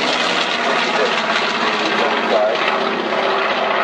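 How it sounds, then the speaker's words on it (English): Engine of a medium bomber at an air show, heard as a loud, continuous propeller drone with a rough, pulsing texture that stays near and even throughout. "this medium bomber, which was good enough aerodynamically speaking to be able to take off from the carrier's deck"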